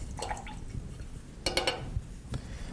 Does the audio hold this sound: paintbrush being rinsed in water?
yes